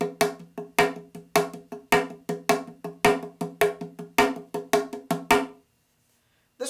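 Rapid, even strokes on a clay pot drum, with a louder accent falling on every third beat; the playing stops abruptly near the end.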